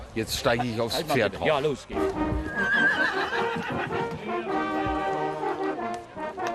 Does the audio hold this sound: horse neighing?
yes